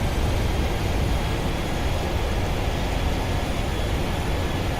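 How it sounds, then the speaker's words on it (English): Airliner thrust reversers in the Prepar3d flight simulator game roaring on landing, a steady broadband rush heard from inside, unbroken and loud for the whole stretch with no voices. "2 good reversers."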